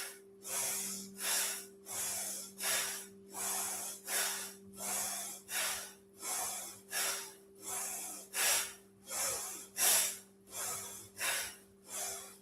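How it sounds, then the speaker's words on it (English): Deep, forceful breaths cycle in a steady rhythm during a kundalini kriya breathing exercise, about twenty sharp nasal inhale-exhale pulses over a faint low hum, close to the microphone. "All right, inhaling and exhaling."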